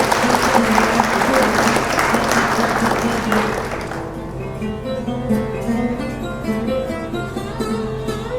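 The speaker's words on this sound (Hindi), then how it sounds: "आप लोग ज़ोरदार तालियों से स्वागत करें" An audience welcoming a poet with loud applause, a full burst of clapping that fades after a few seconds into a quieter room with a low hum and faint tones.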